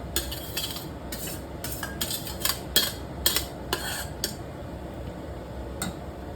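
Cooked rice is mixed into broccoli in a pan, a string of sharp spoon-on-pan clinks and scrapes at an uneven rhythm over a faint, steady sizzle.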